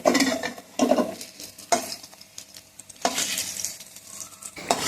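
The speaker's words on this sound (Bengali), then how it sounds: "বড়াগুলোকে একটু উল্টে দিই" Fritters sizzle in hot oil in a pan while a metal utensil scrapes and clinks in bursts as they are turned over, a close, crackling hiss broken by sharp taps.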